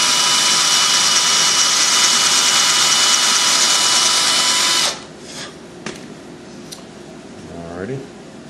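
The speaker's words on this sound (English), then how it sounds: "So I'm going to go ahead and drill this one." Power drill boring into a wooden vulture carving, a loud, steady high whine running close for about five seconds, then cutting off abruptly, leaving faint handling clicks and a brief low voice afterward.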